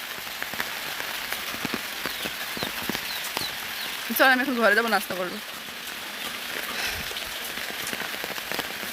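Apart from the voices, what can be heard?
heavy rain falling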